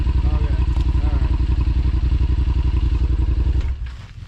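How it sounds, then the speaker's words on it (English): A Yamaha Rmax 1000 side-by-side engine drones loud and steady with a rapid pulsing rhythm while its exhaust sits underwater in thick mud, then abruptly dies and sputters out near the end. "I think I just stalled because I got my exhaust underwater and let off."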